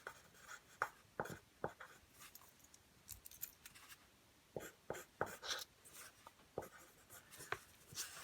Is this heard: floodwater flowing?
no